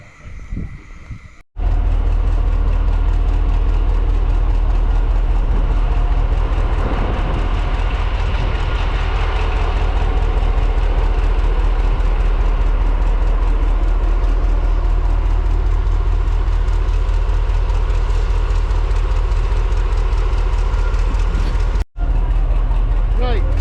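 A heritage train rattles steadily past on the West Somerset Railway, a loud, continuous rumble and clatter with a deep low drone that lasts almost the whole stretch, while a voice talks over it.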